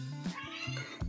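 An impatient house cat meows repeatedly in a kitchen during samosa folding, three or four short, insistent, fairly close calls in quick succession, with no talking.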